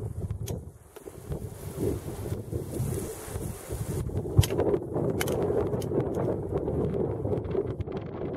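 Strong, gusting wind buffets the microphone continuously at Pravčická brána in Bohemian Switzerland National Park, Czechia, a rough roaring rumble with occasional sharp knocks.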